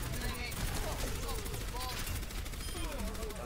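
Rapid bursts of automatic gunfire in Overwatch competitive payload play, dense and continuous throughout, with overlapping shots close and loud.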